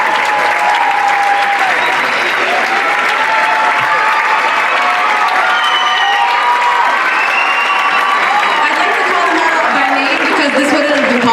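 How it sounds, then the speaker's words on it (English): Loud sustained applause fills a hall as an audience claps for the ASA e-board at the Arab Xpressions 2018 show, steady dense clapping with cheers and whoops mixed in throughout. "So let's give them a round of applause."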